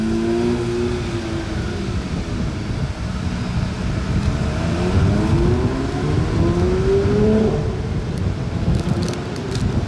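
A new Porsche 992 GT3 sports car in grey with the extra pack, Monaco plates, passes on a Monaco street, its engine note rising and sweeping by loudly over steady traffic rumble.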